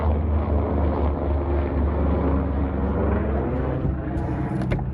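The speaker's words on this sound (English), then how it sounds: "freaking helicopter." A helicopter drones overhead, a continuous low rumbling hum that stays steady and fairly loud, with nothing else standing out.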